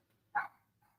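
A single short dog bark or yip rings out at close range in a quiet room, followed by a faint softer whimper or second bark.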